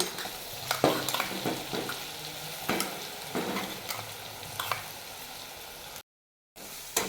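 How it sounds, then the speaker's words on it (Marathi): Ground green chili sautéing in hot oil with turmeric and cumin, giving a constant sizzle with repeated scraping stirs up close, with a brief silent gap near the end and no voices. "मिरची छान तेलामध्ये परतवून घ्यायची"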